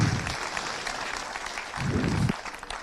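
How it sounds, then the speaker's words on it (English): Crowd applause at an outdoor Minor B All-Ireland championship final presentation, a dense round of clapping that rises and swells in waves near the end, with some voices mixed in. "I'd ask you all to give a round of applause"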